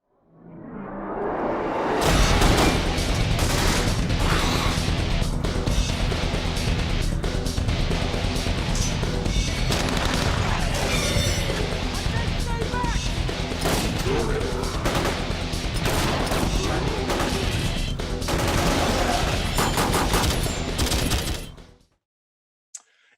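Gunfire in the Resident Evil movie, a dense, loud barrage of rapid shots with crashes and whooshes layered over a heavy soundtrack, continuous for about twenty seconds before cutting off.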